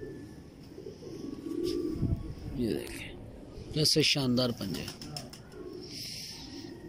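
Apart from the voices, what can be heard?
Hino pigeons cooing on a Lahore rooftop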